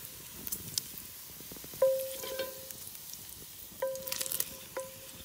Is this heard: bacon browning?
yes